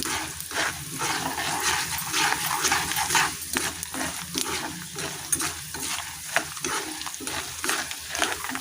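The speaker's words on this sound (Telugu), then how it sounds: "ఇలా తాలింపు పెట్టుకోవాలి" Tempering of dried red chillies and curry leaves frying in hot oil for a coconut and raw tamarind pickle: a steady, fairly loud sizzle and crackle with rhythmic scraping stirs, and no talk.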